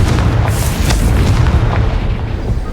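A Confringo blasting spell bursts in Hogwarts Legacy, a heavy, rumbling in-game explosion that hits hard at the start and keeps booming through the whole stretch.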